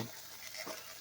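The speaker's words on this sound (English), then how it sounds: "While that's sizzling," Steady, soft sizzling of meat frying in a pan, a continuous crackling hiss at low volume with no voices.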